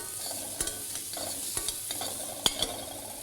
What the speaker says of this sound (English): So, lardons, nice and crispy, turn it round.